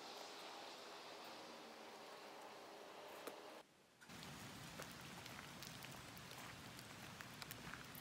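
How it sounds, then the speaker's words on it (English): Steady rain patters down on surfaces nearby, a continuous hiss with scattered drops, briefly dipping quiet for a moment before resuming. "A little bit of rain"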